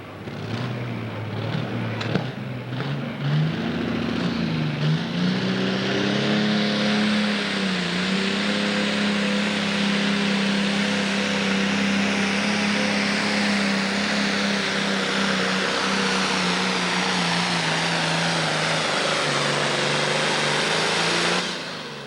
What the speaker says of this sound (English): Okay, this is one of the Pro Stock tractors.